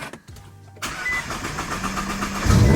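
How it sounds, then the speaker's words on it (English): A car engine cold-starts inside a garage after sitting unused for three weeks: a brief cranking sound, then the engine catches and settles into a loud, steady idle that swells louder near the end. "This car hasn't started in over 3 weeks."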